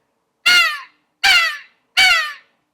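Three loud, harsh crow-like caws in an even rhythm, each sharp and nasal with a trailing fade, separated by silence; produced on a handheld turkey call imitating a crow.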